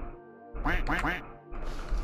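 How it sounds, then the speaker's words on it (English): Duck in the video game Voices of the Void gives three quick loud quacks close by, set against a low game hum. "Sorry, I heard a quack."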